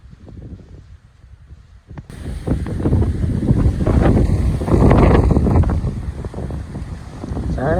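Strong wind roars and buffets the microphone in a mango orchard, quieter at first and then building into loud, rumbling gusts that keep going.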